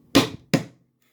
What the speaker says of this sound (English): judge slamming the mallet on the desk or whatever.